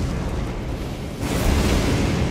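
Blast from a cannon-headed enemy in Elden Ring: a loud, roaring explosive burst swells midway and continues as a dense, rumbling wash of noise.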